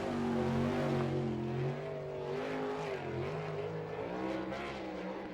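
Winged sprint car racing a qualifying lap on a dirt oval at Fremont, Ohio, its engine a loud sustained roar with pitch rising and falling through the corners, no voices.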